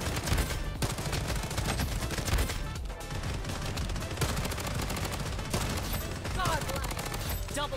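Rapid MP5 hip-fire bursts in the shooter game Bloodstrike, dense and continuous across the whole stretch over a loud game mix, with sporadic voices in the background.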